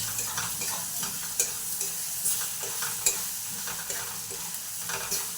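A large tomato cut into four pieces fries in hot oil and is stirred, giving a steady close sizzle with a few sharp utensil scrapes and clicks.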